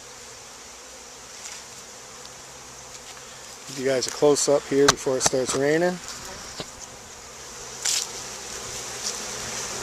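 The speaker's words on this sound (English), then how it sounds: "It was a 3-pound package of bees." A 3-pound package of honey bees, mostly workers, buzzes steadily through screens outdoors, a constant close hum that continues under a man's brief speech in the middle.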